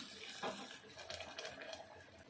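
Water splashes and pours steadily into chicken curry in a pan, a close, continuous wet gushing with a few brief bursts.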